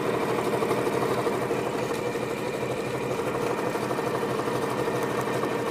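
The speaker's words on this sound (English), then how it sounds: "Let me sew it through real quick." A sewing machine stitches quilt fabric strips in an unbroken, rapid mechanical whir, close and steady throughout.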